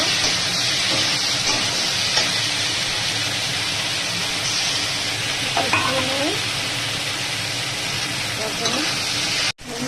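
Chili and cumin paste sizzles and fries steadily in oil in a pan while a paneer vegetable dish is cooked, with occasional stirring scrapes and a constant loud hiss throughout.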